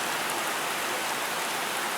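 Steady rain pours down outdoors during a European road trip, a dense, even hiss of drops hitting surfaces that stays constant and loud, with no voices.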